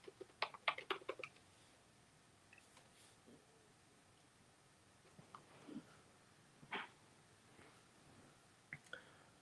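Typing on a computer keyboard during a church community check-in: a quick burst of clicks up front, then sparse, quiet keystrokes over a low room hiss.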